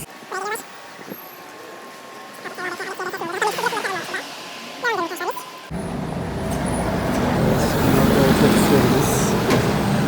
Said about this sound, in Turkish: okula da bu otobüslerle gidiyoruz